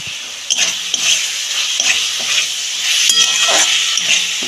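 Amla pickle stirred in a pan as fried spices go in, a steady sizzle with scraping spoon strokes against the metal, close and fairly loud, no voices.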